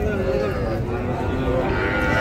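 A calf moos in a village cattle setting, a drawn-out, fairly close low call over a continuous background of voices and livestock sounds.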